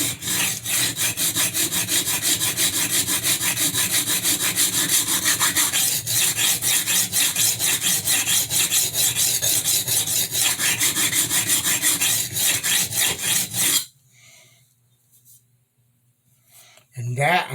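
A damaged kitchen knife edge is reprofiled on an abrasive, making a loud, steady rhythmic scraping of quick back-and-forth strokes that suddenly stops near the end, followed by near silence and then a brief return.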